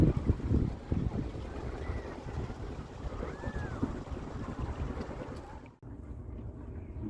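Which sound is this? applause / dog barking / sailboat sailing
sailboat sailing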